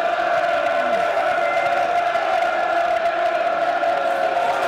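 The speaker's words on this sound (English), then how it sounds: "Crowd trying to lift the Lions." Millwall fans filling a football stadium with a sustained roar of cheering and chanting during a home match against Blackburn Rovers, a dense, steady wall of crowd noise with no breaks.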